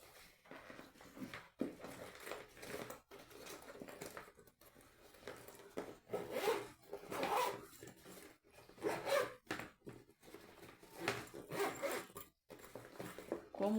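Zipper on a handmade fabric case being worked and tugged, giving soft intermittent rasping pulls and rubbing fabric noises, close and fairly quiet, with no talking.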